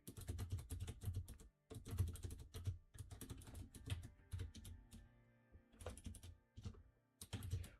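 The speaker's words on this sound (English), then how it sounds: "And I am typing something out to someone." Fast typing on a computer keyboard, close and clear, with bursts of rapid key clicks broken by short pauses, continuing steadily and heard alone.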